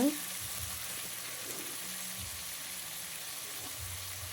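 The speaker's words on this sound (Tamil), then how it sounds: "இப்போ தக்காளியை சேர்த்துட்டு அதை நல்லா கிளறி விட்டுட்டு" Tomatoes and drumsticks cook in a frying pan with a faint, steady sizzle. Quiet scrapes of stirring come through, and there is a low hum of background noise.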